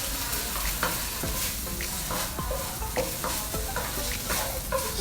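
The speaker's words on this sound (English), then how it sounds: "throw my basil in, and then we're just gonna stir fry this a little bit with the heat off" Crispy pork stir-fried with red curry paste and basil, off the heat in a still-hot pan, a constant close sizzle broken by repeated scraping and tossing strokes of a utensil.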